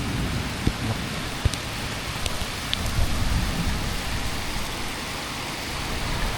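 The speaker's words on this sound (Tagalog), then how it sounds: "Malakas talaga ulan." Heavy rain pours steadily in a dense, hissing wash, with scattered louder drops and taps on nearby surfaces and a low rumble underneath, continuous throughout.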